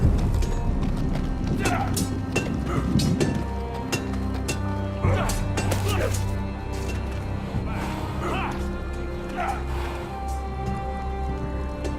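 Horse hooves clip-clop in the Telltale Game of Thrones game, a steady sequence of hollow knocks under a deep ambient drone with faint clinks, while a voice talks over part of it.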